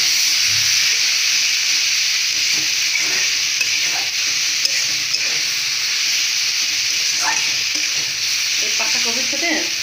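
Shredded cabbage fries in a hot pan with a loud, steady hissing sizzle and scattered faint taps of stirring throughout.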